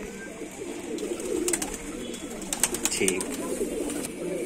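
Soft pigeon cooing from racing pigeons at a summer pigeon tournament in Moradabad, low repeated coos in the background while people talk briefly nearby.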